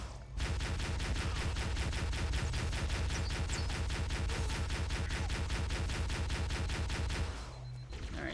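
Mounted turret firing in Halo CE, a rapid, continuous burst of loud repeated shots lasting about seven seconds before cutting off, no voices.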